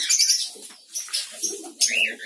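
Pigeons in breeding boxes coo and chirp close by, with soft wing flutters and shuffling in between the calls.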